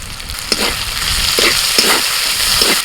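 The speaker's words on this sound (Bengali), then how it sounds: "এবার দিচ্ছি আদা রসুন আর কাঁচা লঙ্কা বাটা টমেটো কুচি" Ginger, garlic and green chilli paste with chopped tomato sizzle loudly in a hot pan, a steady dense frying hiss with a few soft stirring clicks, close up and with no voices.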